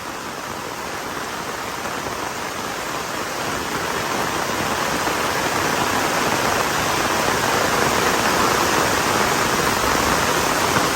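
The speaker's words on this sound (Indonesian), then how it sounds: "Anginnya semakin kencang di sini." Strong wind roars steadily across a mountain campsite on Gunung Sumbing, a dense, loud broadband rush that swells slightly over time with no pauses and no voices.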